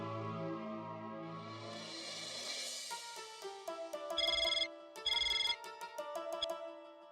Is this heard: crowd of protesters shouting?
no